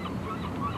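Geese or similar waterfowl honking at a tidal feeding area where birds gather to eat small water animals and fish, a short burst of overlapping calls with light wind noise.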